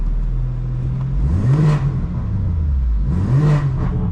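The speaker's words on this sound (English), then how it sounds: "Get some free revs while we're parked up here in this big spot." A 2025 BMW M4 CS with an aftermarket exhaust, parked, revs twice in sharp rising-and-falling bursts over a steady idle, loud and close, with no talking.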